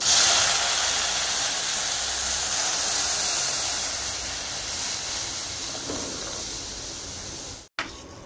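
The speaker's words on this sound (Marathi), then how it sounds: "त्यामध्ये आपण दूध गरम केलेले ओतूया" Heated milk poured into a pan of roasted rice makes a steady, close hiss and sizzle that slowly fades over several seconds, with no talking.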